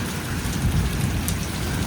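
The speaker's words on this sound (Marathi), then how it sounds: "लय भयंकर पाऊस पडतोय." Heavy rain pours steadily onto a terrace during a sudden storm, a dense, continuous wash of drumming drops close by with no voices.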